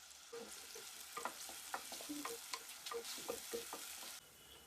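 Chopped onion and whole spices frying in a pan for mutton curry, a steady close sizzle broken by repeated scraping stir strokes, with no one talking.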